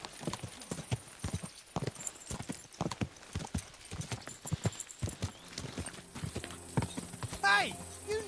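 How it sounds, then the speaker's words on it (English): Clip-clopping hooves of a horse in the medieval video game Kingdom Come: Deliverance II, steady rhythmic hoofbeats close by, with a whinny and game voices chattering over them near the end. "Watch out with that horse!"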